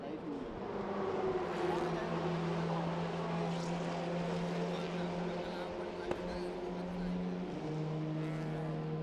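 TCR touring race cars lapping Sepang circuit in a TCR Asia race, engines droning steadily at a distance with sustained overlapping tones and a downshift near the end, under faint crowd-like ambience.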